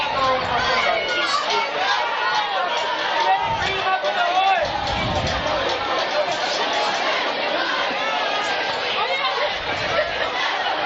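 A packed crowd of Mustang fans at a high school varsity football game, a steady hubbub of chatter and babble filling the stands, close and continuous with scattered louder voices and faint cheering.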